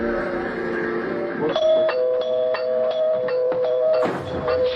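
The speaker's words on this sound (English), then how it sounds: "the doorbell starts ringing over and over and over again" An electronic doorbell chimes again and again in quick succession, a bright repeating tone ringing out close by with no talking.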